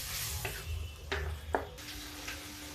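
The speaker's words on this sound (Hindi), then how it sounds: "अब इस मसाले को हम भून लेंगे।" Masala with curry leaves frying in a pan, a steady low sizzle under a few sharp scrapes and taps of a spoon stirring against the metal.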